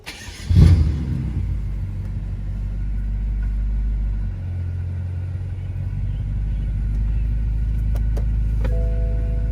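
BMW F10 M5 with a muffler delete starts with a sharp crack, then settles into a deep, steady rumbling idle that swells slightly toward the end, loud and close.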